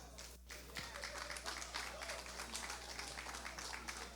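Guests at a cocktail and sashing ceremony at a resort applaud the contestants, a steady wash of clapping over a constant low hum.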